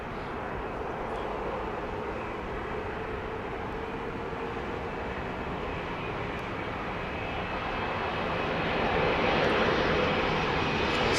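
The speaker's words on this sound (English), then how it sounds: "decreasing that lift by use of the flaps to slow the aircraft down, a steady descent" A jet airliner descends on approach to land at Heathrow with flaps extended, its steady broadband engine roar filling the air and swelling slightly louder toward the end, with no other sounds.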